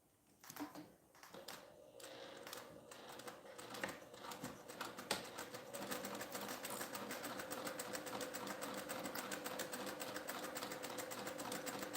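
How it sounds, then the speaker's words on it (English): A sewing machine stitches two fabric pieces of a passport organizer together, starting in short bursts and then running in a fast, steady, close mechanical rattle. "let's stitch these two together"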